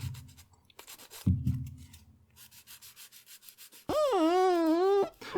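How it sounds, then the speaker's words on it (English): Plastic parts from a Bandai Perfect Grade Millennium Falcon model kit are sanded by hand in quick, rhythmic rubbing strokes up close, followed by a brief wavering squeak, and no one speaks. "So work your way around and get all that nicely sanded."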